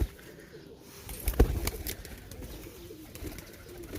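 Pigeons coo softly at Shahdra pigeon market in Lahore, faint low calls under bustling market noise with scattered clatter and a few sharp knocks.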